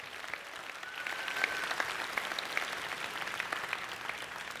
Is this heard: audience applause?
yes